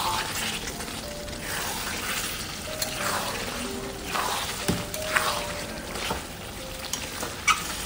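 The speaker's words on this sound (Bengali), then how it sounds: "চিকেনটা আমি এখন কষাতে থাকবো, এর মধ্যে জল দেব না।" Chicken pieces being dry-sautéed in a pan without water for a jackfruit chicken curry, giving a continuous sizzle and fry with occasional stirring clatter and scrapes.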